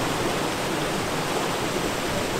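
A waterfall on Dunfield Creek roars without pause, a dense, even wash of rushing water close by with no voices.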